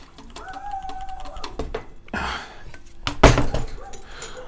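Old fuel poured out of the tank of an Echo chainsaw, with clinks and handling noises, a brief splashing pour and a sharp clatter of the saw or cap being handled.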